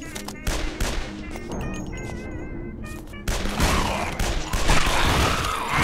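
Video-game gunfire aimed at zombies: rapid, loud bursts of shots with short pauses between volleys, crisp and close, and a dense barrage toward the end.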